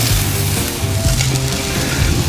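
Steaks cooking outdoors in warm, humid Foley, Alabama: a loud, continuous sizzle with crackling fat and faint tonal hums beneath, steady and close throughout.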